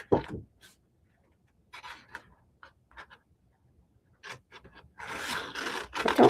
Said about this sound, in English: I don't normally cut my papers like this, but it's just easier than bringing out my trimmer again